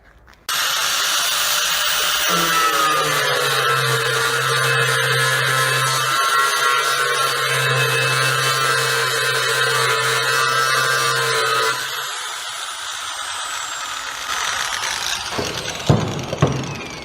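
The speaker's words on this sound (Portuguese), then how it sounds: "vou usar a lixadeira nessa chapa." Electric sander grinding a metal sheet in a metalworking workshop, a loud steady whine with a low droning hum that runs continuously for about eleven seconds, then cuts off, followed by faint clanks and handling noises.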